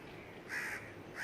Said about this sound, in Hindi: पड़ोसी भी कौवा